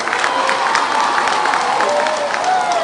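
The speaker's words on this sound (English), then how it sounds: "Students, please clap for Mama." Secondary-school students clap and cheer for a guest at an outdoor campaign event, a loud, busy wash of applause with crowd voices mixed in.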